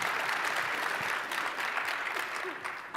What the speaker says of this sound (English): So give them a round of applause and enjoy the session.